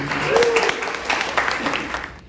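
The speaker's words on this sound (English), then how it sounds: "Clap for that again." An audience at a breakfast event bursts into applause, a brief wash of clapping of moderate loudness that fades out after about two seconds.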